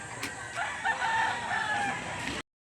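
A Gilmore-line rooster at a livestock auction crows once, a strained, fairly close call over a busy background hum.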